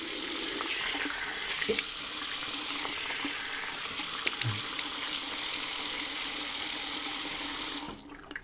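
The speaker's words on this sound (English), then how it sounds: "Let's rinse this off." Tap water runs steadily into a sink while a OneBlade razor is rinsed under it, giving a continuous hiss with small splashes and clicks. The flow stops abruptly near the end.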